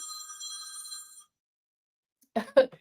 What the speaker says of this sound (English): I just started getting a phone call.